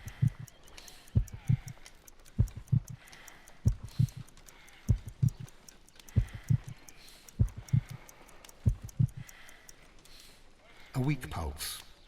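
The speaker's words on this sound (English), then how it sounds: "I need to concentrate and count the heartbeats." A slow, weak heartbeat in Sherlock Holmes: Crimes and Punishments sounds as steady, muffled double thumps, about ten in a row at an even pace, before a brief different noise at the end.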